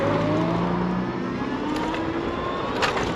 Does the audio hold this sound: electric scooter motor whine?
yes